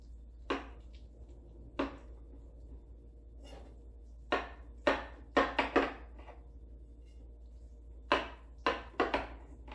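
A knife cutting through hot baked lasagna in a dish, heard as sparse, separate crisp knocks and scrapes that come singly and then in short clusters against a quiet background.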